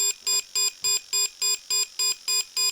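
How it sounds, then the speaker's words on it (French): Electronics of an XB-10 RC car beeping during setup, a steady series of about ten evenly spaced, loud, high-pitched electronic tones with no talking. "Vous attendez que ça finisse de biper."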